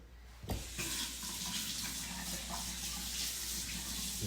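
Water runs steadily from a kitchen tap during a quick rinse while baking cinnamon rolls, a close, continuous splashing stream that begins abruptly and carries on to the end.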